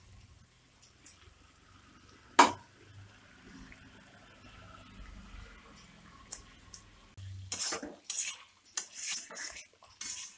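A spoon scrapes and clinks against a pot while Gutti Vankaya curry, a stuffed brinjal dish with ground tomato and coriander, is stirred, in scattered irregular knocks and taps with quiet gaps between them.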